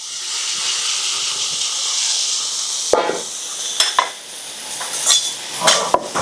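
A hot pan hisses with a loud steamy sizzle for fried insects Thai style, steady at first, then broken by clinks and scrapes of utensils as cooking starts.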